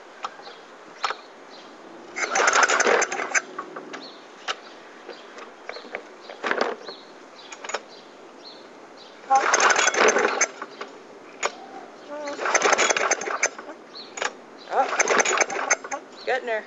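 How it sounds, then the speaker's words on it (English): A cold Murray lawn mower engine cranks and sputters in uneven bursts, catching briefly between quieter gaps. Someone speaks between attempts. "The mower does not like the cold."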